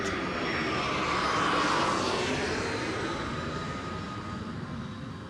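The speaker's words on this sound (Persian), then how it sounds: "خیلی طول نمیکشه که متوجه میشه یکی از هواپیماهای دشمن داره به بالای سرشون میرسه" A German bomber's engines roar overhead, a broad, loud and steady drone that swells slightly and then eases away as the aircraft passes.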